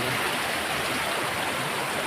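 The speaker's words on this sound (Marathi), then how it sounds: "ही आपल्या नदीची खालची बाजू आहे" Water rushes steadily over rocks, a close, continuous broadband flow with no voices.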